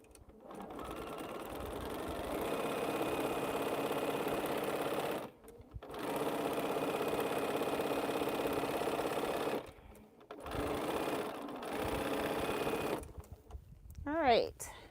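Sewing machine stitching quilt rows together in steady bursts of rapid, even mechanical hum, stopping briefly between runs, with someone talking quietly in the pauses.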